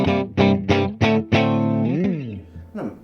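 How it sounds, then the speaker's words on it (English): Anderson S-style electric guitar played through a Fender Deluxe Reverb reissue amp: five quick, clean picked notes, then a ringing sustained chord that wavers and fades, followed by one final plucked note. "It's just the Anderson S-style through a Fender Deluxe Reverb reissue."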